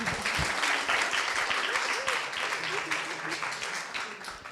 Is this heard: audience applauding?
yes